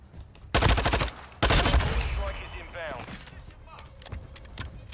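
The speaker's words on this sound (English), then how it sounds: "Oh, I'm being shot" Close, rapid bursts of automatic gunfire hit the player in Call of Duty: Warzone 2.0: two loud volleys, then scattered shots fading under excited voices.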